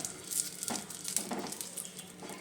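Ghee sizzles in a heated kadai as it is brushed across the pan before milk goes in for rabri. The frying hiss is close and steady, with a few brighter crackles and no voices.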